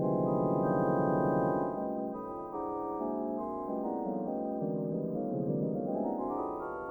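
Eerie sustained synth patch from the Novella Carbon thriller-scoring sample library, with dense stacked harmonic tones that swell loud at first, then shift and waver in pitch, gliding upward toward the end, heard alone without talk.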